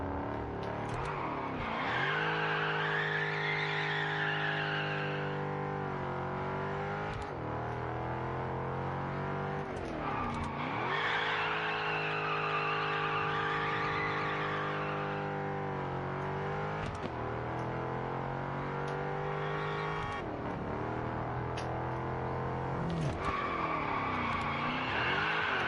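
Engine of a sports car in the Test Drive Unlimited Solar Crown racing game, revving high and dropping between gear changes, with bursts of tyre squeal and skidding over a steady loud roar throughout.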